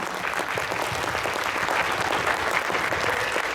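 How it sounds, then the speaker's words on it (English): A standing crowd clapping for a team in an ovation, dense sustained applause from many people, even and loud throughout with no talking over it. "We will stand up and clap, a standing ovation for them."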